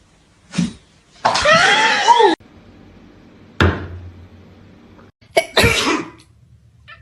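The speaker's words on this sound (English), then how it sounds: "I sneezed" A person sneezes indoors near a cat, with a couple of sharp, loud bursts separated by short gaps and quieter background noise in between.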